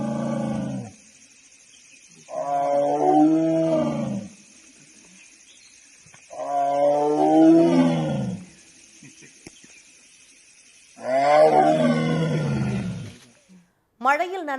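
A large tiger, soaked by rain and sitting on a bridge, gives three loud, close, drawn-out growling roars, each about two seconds long and separated by quiet pauses.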